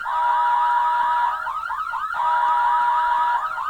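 A loud electronic siren wails continuously with rapid rising sweeps, switching pattern briefly midway before resuming.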